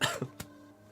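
A single short cough, fairly close and moderately loud, followed by a softer second burst, with a quiet room background and no talking.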